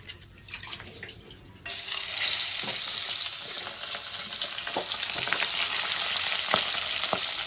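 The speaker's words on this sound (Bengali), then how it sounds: "এবার মাথাটা আমি লাল করে ভেজে নেব।" A salted, turmeric-rubbed fish head drops into hot oil and bursts into a loud, steady sizzle that holds close and bright, with scattered pops and crackles over the continuous hiss.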